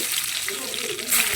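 Garlic frying in hot oil with mustard seeds and cumin for a Pongal sambar, giving a steady, close hissing sizzle throughout.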